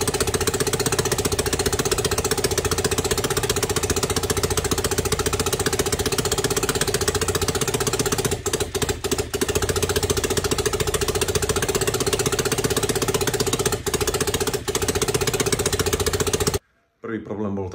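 A JAWA 500 OHC motorcycle engine runs on its first test after assembly, a loud, dense, steady mechanical clatter with a knocking, jackhammer-like roughness that keeps on without a break and cuts out abruptly near the end.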